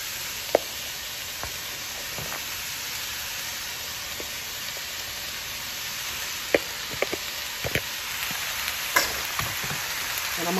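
Wheat spaghetti noodles fry in a pan, giving a steady, close sizzle with scattered small clicks and stirring taps throughout.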